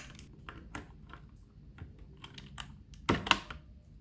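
Crisp, irregular keystrokes tap out on a VortexSeries VX5 60% mechanical keyboard fitted with Outemu Brown switches, quiet and close, ending in a couple of sharper, louder key presses.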